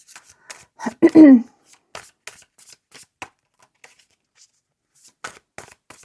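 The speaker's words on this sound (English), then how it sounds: "let's do a couple more shuffles." Tarot cards are riffled and shuffled in quick bursts, one louder flurry early on, followed by lighter sporadic flicks and taps close to the microphone.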